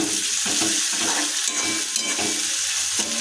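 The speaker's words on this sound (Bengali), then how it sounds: "মিনিট 2 ধরে লো ফ্লেমে ভালোভাবে ভাজা করে নেব" Garlic, ginger and chopped green chilli frying on a low flame in a kadai, a steady close sizzle with a few soft stirring scrapes, no voices.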